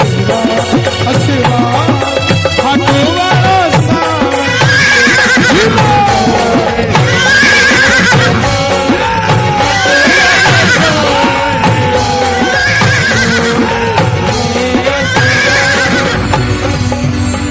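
A horse neighs and whinnies repeatedly over a loud, busy musical backdrop, with clip-clop hoofbeats and a crowd faintly mixed in during a devotional Shri Shyam katha, the calls rising and falling in several distinct bursts.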